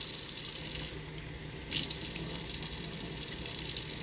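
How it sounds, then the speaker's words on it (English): Tap water runs steadily through a strainer holding a bag of kava made from frozen root, with a constant close hiss and a brief shift in the flow partway through. "I'm going to run water while it's in the strainer over the bag gently."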